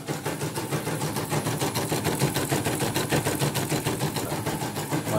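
A CNY E900 CNC embroidery machine runs a stitching test, a fast steady mechanical chatter with a regular rapid pulse of needle strokes, close and continuous throughout.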